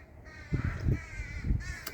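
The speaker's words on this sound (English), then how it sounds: "I call those ravens. They're smaller than a crow." Several loud, harsh caws from what sound like ravens, smaller than crows and active outdoors, come in about three rough bursts over a steady background.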